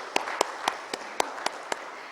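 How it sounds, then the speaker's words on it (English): An audience claps for a keynote speaker at a conference, sounding as sparse, distinct, evenly spaced claps, roughly one every quarter second. They are moderately loud against a quiet hall murmur. "A huge round of applause for him"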